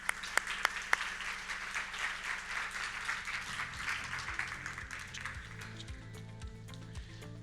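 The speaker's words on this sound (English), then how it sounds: "Can I get a round of applause for the textiles team?" A summit audience breaks into applause for a textiles team, a dense crowd of clapping with a few sharp claps standing out at the start, then tapering as music rises underneath.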